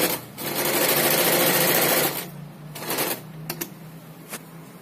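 Sewing machine stitching a salwar neckline, a loud steady whirring run of about two seconds that stops, followed by a few short bursts and single clicks as the machine is restarted and halted.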